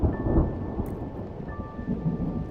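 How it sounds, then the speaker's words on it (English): Rolling thunder from a storm in the video game Mind over Magic, a continuous low rumble with rain hiss throughout, swelling near the start and again toward the end. "I just love this thunder sound in there"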